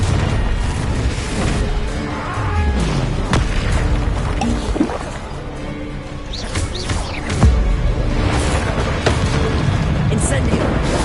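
Confringo spell explosions in the Hogwarts Legacy video game go off as repeated booms and crashes over a dense bed of game sound, with voices in the mix.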